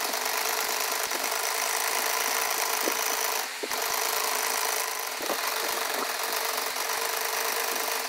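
A sewing machine runs steadily, stitching three sides of a lehenga strip onto its lining while sewing a deity's dress. The whirring is close and continuous, with a brief dip partway through, and no one speaks.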